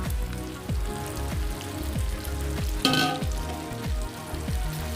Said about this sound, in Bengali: এই পর্যায়ে আমি দিয়ে দেবো ভেজে রাখা কাঁকরোল আর আলুটা